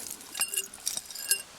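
An old glass jug dug from a bottle dump on a snowy day, handled so it gives a few light, bright clinks and taps, faint and close, spaced irregularly with no talking.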